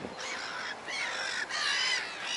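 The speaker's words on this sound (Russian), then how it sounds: "Смотрите, сколько птиц сегодня." Crows caw loudly in a few harsh, drawn-out calls, close by and overlapping, with no talking, in Kaliningrad.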